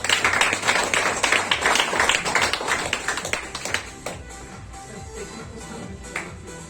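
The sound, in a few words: loud applause from audience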